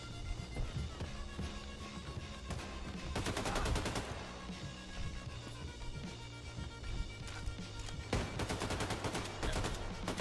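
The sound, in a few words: nuclear cannon firing in video game Wolfenstein II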